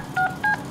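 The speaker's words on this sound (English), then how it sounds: "let's make a phone call" Two short phone keypad dialing tones beep in a Deadpool video game, each a brief steady electronic double tone, clear over a soft background hum.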